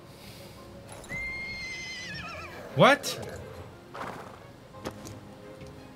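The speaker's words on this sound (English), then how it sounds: "I hear a horse." A horse in the video game Ashes of Creation gives a loud, shrill whinny with quick wavering pitch, with a few hoof clops and thuds around it and a brief spoken word under the game sounds.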